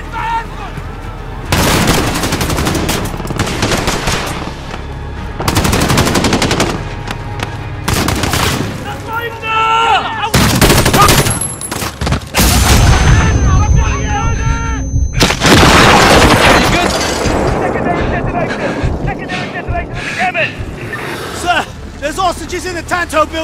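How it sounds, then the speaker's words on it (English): Heavy gunfire and explosive booms from the Call of Duty: Modern Warfare Piccadilly mission, loud bursts recurring throughout amid chaotic combat noise, with voices speaking over parts of it. "Suspect is shooting into the tank."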